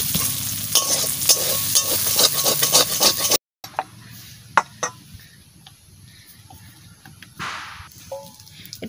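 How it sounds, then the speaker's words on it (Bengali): Chicken pieces fry in a pan over an open wood fire while being stirred, with a steady close sizzle and scraping strokes, a brief cut, then quieter sizzling with scattered clinks and scrapes. "মাংস প্রায় ভাজা ভাজা হয়ে গেছে।"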